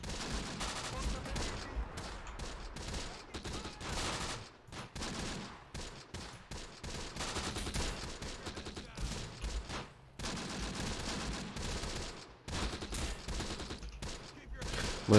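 Dense battlefield fire in the Close Combat: The Bloody First video game, with mortar rounds and a cannon shot from an armed vehicle amid a continuous barrage of rifle and machine-gun fire, loud and sustained with brief lulls.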